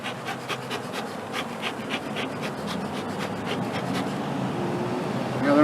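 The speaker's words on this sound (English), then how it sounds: "let's see if I can get these bees out of here" A hive of honey bees buzzes steadily and densely up close, with a loud, sustained drone and a few brief louder flickers from nearby bees.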